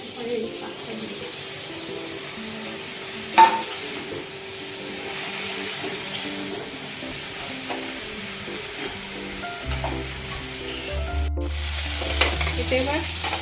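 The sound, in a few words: potato, pumpkin and greens frying in a pan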